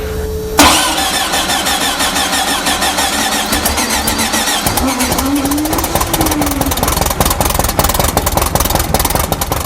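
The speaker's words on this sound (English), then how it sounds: "As soon as we put a good battery on it and a good starter, pretty much straight away it fired up" A car engine cranks and fires up right after a fresh battery and starter are fitted, then keeps running with a loud, steady rumble and chugging pulses close by.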